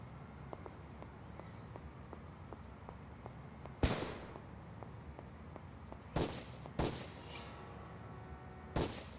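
Several sharp, loud gunshots crack out at irregular intervals over a low, steady background in the Urban Chaos police game, each shot standing alone with short echoing tails.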